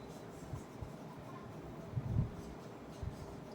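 Chalk or marker strokes on a board while writing the word mole during a science lesson, soft scratchy taps with a short firmer stroke in the middle, faint over room noise.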